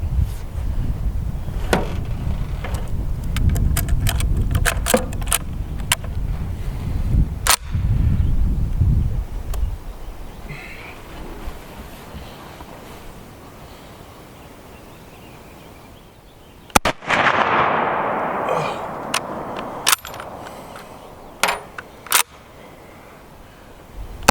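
Shots from a Steyr M95/34 bolt-action rifle on an outdoor range aimed at a 300-yard target, a few sharp, isolated cracks spaced several seconds apart over steady background noise.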